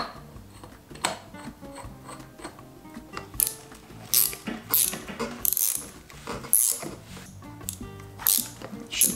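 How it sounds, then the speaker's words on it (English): A chain breaker tool pressing a rivet out of a CRF300L motorcycle chain, with close metallic clicks, ratcheting turns and clanks in uneven bursts, plus a few sharper taps. "You clamp this on there tightly, then we push this pin forward in there, and it'll force that rivet out the backside."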